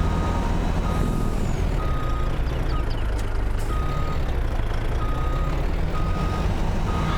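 Truck reversing beeps in the Farming Simulator 22 video game, a steady series of evenly spaced electronic beeps over a loud, constant low engine rumble.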